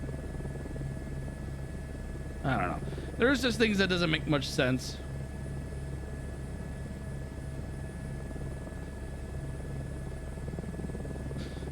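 Helicopter rotors in Microsoft Flight Simulator 2024 drone as a steady low hum throughout, with someone briefly speaking over it near the start.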